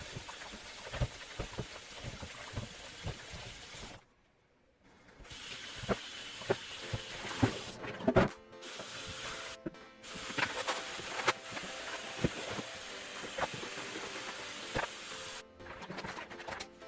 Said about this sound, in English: my water is boiling